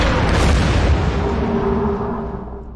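A naval support ship's guns fire in Order of Battle's Pacific campaign, with a heavy, close boom that rolls out into a long, fading rumble.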